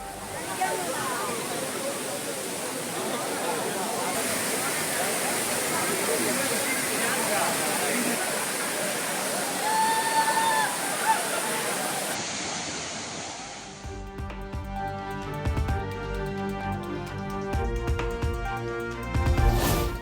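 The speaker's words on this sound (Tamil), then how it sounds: "அருவிகளில் சுற்றுலா பயணிகள் ஆனந்த குளியல் போட்டு உற்சாகம்." Waterfalls at Courtallam in Tenkasi district, where tourists bathe, give a loud, continuous roar of rushing water for about thirteen seconds. The roar then cuts to music.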